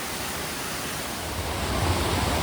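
Somtirth waterfall's stream, near Nivendi village by Malgund and Ganpatipule, babbles over rocks in a close, steady hiss of rushing water, with no voices.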